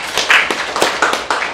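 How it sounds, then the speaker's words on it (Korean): A church congregation at a Sunday worship service claps in a brief burst of irregular, overlapping hand claps, moderately loud and close, with no talking over it. "우리 위에서 한번 박수 한번 해드리고."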